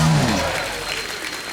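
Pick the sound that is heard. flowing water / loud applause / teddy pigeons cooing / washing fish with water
loud applause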